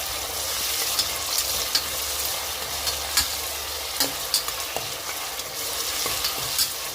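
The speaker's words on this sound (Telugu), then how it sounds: "అల్లం వెల్లుల్లి పేస్ట్ కూడా వేసేసుకుందాం వేసుకొని బాగా కలిపించేసుకున్నాం" Ginger garlic paste and tomato fry in a pan, a constant close sizzle with scattered clicks and scrapes as a spoon stirs the mixture, and no voices.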